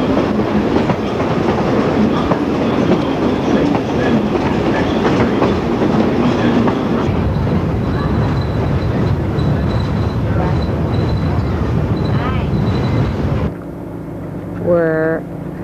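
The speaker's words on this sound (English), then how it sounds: "We're on the Stony Mountain Railroad train" A sightseeing train on the Stone Mountain Railroad rolls along steadily with loud rumbling and clattering wheels, people talking faintly over the noise, before the sound drops and a whistle-like tone rises near the end.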